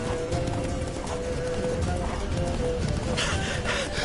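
Horse hooves pound in a rapid running rhythm in The Witcher 3, amid dense, loud game background noise, with faint voices mixed in.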